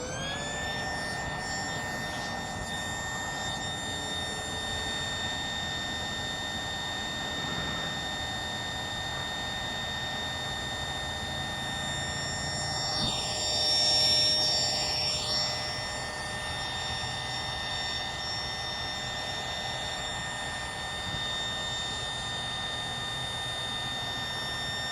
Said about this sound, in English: It's a quiet pump. Takes a number of minutes to pump up.